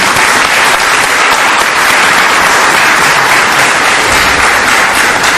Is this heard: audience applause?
yes